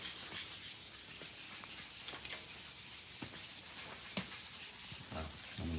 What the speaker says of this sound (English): I'm sure that sanding's annoying some of you guys.